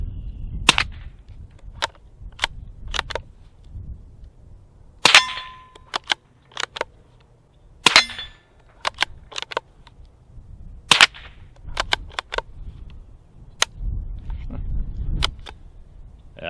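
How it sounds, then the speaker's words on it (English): Supersonic rounds fired through an AAC Halcyon modular silencer, a series of about fifteen sharp, loud cracks spaced irregularly over the span, each standing alone with no talk. "let's run those supersonics through it real quick. You can definitely hear that crack"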